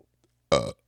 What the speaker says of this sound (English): Excuse me, I had to burp.